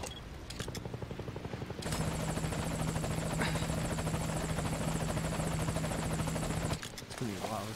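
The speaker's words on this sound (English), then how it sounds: "Dispatching chopper." In the Metal Gear Solid V: Ground Zeroes game, a chopper is sent for pickup, and a loud, steady helicopter rotor thrum fills the scene with a constant drone before cutting off near the end.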